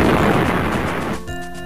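A bomb blast in the video game Sink or Swim, one loud broad boom that rolls and fades out, with no talk.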